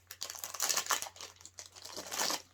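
A biscuit wrapper crinkles as it is opened for a dog at Christmas, a run of close, dry crackling bursts that swell and fade over a couple of seconds, with no talk.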